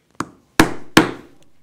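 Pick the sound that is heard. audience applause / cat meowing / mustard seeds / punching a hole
punching a hole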